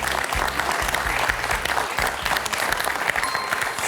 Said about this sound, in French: Et je voudrais d'énormes applaudissements pour Pierre qui signe ce 4 à la suite.